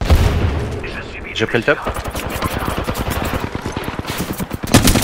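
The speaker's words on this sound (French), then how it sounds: "Je suis sous le feu." Rapid automatic gunfire in the video game Apex Legends, loud continuous bursts of shots close by, with someone speaking briefly over the shooting.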